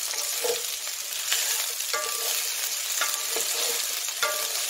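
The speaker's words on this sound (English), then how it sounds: "to cook all this up and brown it and get a nice golden colour on it" Ingredients browning in a pot for a one-pot baked bean stew, a steady close sizzle and fry with repeated scraping, clattering stirs of a utensil against the pot.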